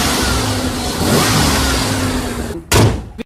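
A 1995 Ford Explorer engine rumbles and revs loudly and close for a few seconds, drops away briefly, then a short sharp burst of engine noise follows before cutting off.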